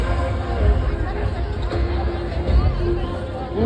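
A large crowd chatters at a packed comedy show in Udaipur, a dense, loud babble of many voices filling the space, with a nearby voice talking over it.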